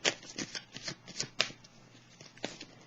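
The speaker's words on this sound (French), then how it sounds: "je vais déposer une carte encore sur conflit et défaite" Tarot cards shuffled, handled and laid down one after another in a quiet room, giving a close run of crisp papery flicks and soft slaps with short pauses between them.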